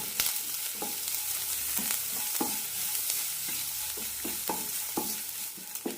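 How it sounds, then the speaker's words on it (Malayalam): Green chilli being sautéed with turmeric powder and salt in a pan, a constant close sizzle broken by regular scraping stirs of a spoon roughly every second. "നന്നായി വഴറ്റാം മഞ്ഞൾപ്പൊടിയുടെ ഒരു പച്ചമുളകെല്ലാം പോയി കിട്ടണം"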